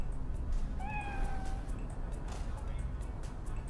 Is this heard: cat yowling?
yes